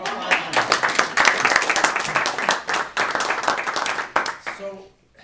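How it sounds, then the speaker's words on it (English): A small audience gives a round of applause after a persuasive speech in a class, brisk clapping with uneven bursts that thins out and stops near the end. "Round of applause."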